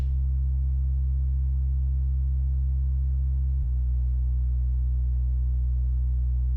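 A steady, deep synth bass tone holds one low note, then drops to a slightly lower pitch partway through and sustains to the end.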